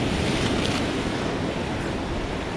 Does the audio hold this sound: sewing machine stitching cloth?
no